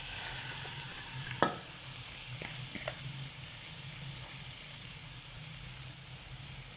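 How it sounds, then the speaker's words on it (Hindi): Half-boiled chana dal is tipped into masala in a pan and stirred, giving a soft steady sizzle with a few scraping clicks of the spoon, faint and without talking. "आधा किलो जो दाल ली हुई थी उसको हाफ बॉयल करके रखा हुआ है तो अब वो हम इसमें डाल देंगे।"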